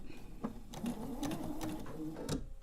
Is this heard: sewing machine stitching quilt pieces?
yes